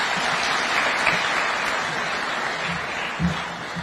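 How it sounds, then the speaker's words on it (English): An audience at a Kenya National Chamber of Commerce event at State House applauds steadily, a broad wash of clapping held at even level from start to finish. "Another round of applause for him."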